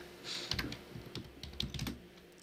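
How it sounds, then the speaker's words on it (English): A password goes in on a computer keyboard as a quick, soft flurry of key taps, close and quiet, with no talking. "And I typed the password wrong."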